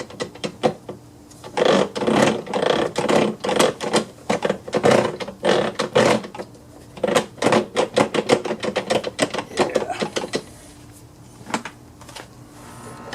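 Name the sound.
rotating pulley and gears of Husqvarna AWD mower drive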